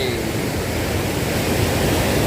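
Water from a waterfall at a riverside campsite rushes in a dense, continuous roar, loud and close with no breaks or voices.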